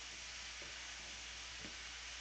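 Mixed peppers sizzling in bacon grease in a pan, a faint continuous hiss of frying with a few soft stirring knocks.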